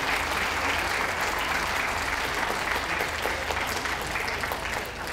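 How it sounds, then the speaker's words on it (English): Sustained applause from a crowd at a championship dog show ring during the toy group judging, dense and steady clapping throughout, tapering slightly at the end. "Can we give a large round of applause to those leading the ring"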